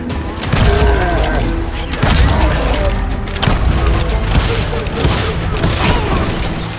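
Dense gunfire rattles through a Call of Juarez Gunslinger shootout, with rapid overlapping shots, booms and crashes loud and continuous across the whole stretch.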